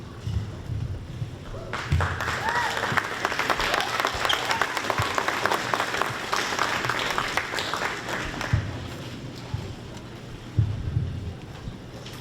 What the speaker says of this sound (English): hold your applause till then